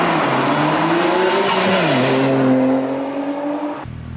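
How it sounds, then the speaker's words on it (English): Nissan GTR with an RB26 engine and HKS equal length downpipes, a loud close engine note climbing and shifting in pitch, then an abrupt cut to a low idle rumble at the end. "Number 2 on the list of my favorite things about owning a GTR is the sound of the"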